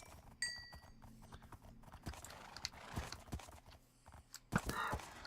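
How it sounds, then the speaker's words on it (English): Donkey hooves clip-clop in the video game Minecraft, a run of quick, light, close footfalls spread through the stretch, with a soft whinny-like cry and a few sharper clicks near the end. "Oh, looks like we've got a donkey up here."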